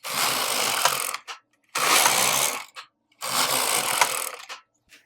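Knitting machine carriage sliding across yarn in three repeated passes, each a loud mechanical whirring rush of about a second followed by a brief clack and pause, heard alone.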